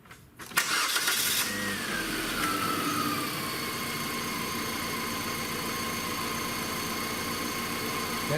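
The four-cylinder engine of a 2004 Kia Spectra cranks briefly, catches with a rising rev, then settles into a steady, loud, close idle hum that holds to the end.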